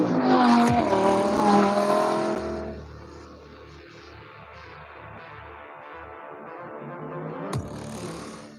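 A Lamborghini Super Trofeo race car engine roars loudly at high revs, then drops to a lower rumbling drone that gradually builds again, ending with a sharp pop.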